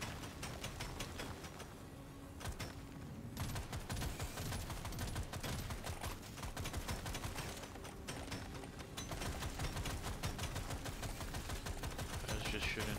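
Dense, continuous gunfire from a player's weapon in Deep Rock Galactic Survivor, rapid shots running nearly the whole time with layered game effects and swarm noise.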